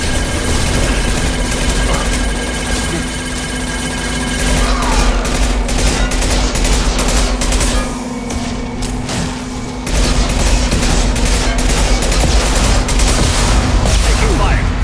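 Sustained heavy gunfire in the video game Mass Effect 2 on PS5, loud dense bursts with booms, pausing briefly before resuming, with faint voices shouting amid the shooting.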